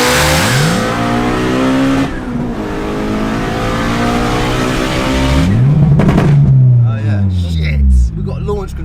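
Turbocharged Honda B18 engine car revving hard on launch control, loud rising and falling revs with sharp pitch sweeps and crackling bursts, close by, with a voice exclaiming over the engine near the end.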